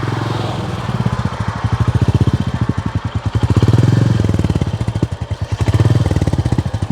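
A Royal Enfield Goan Classic 350 motorcycle with a five-speed gearbox runs close by, its single-cylinder engine giving a steady, loud thumping pulse that swells and eases slightly with the throttle, with no voices over it.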